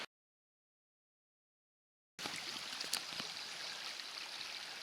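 The Current River at Big Spring State Park flows steadily nearby, a continuous wash of moving water that starts abruptly after about two seconds of silence, with a few brief splashes and no talking.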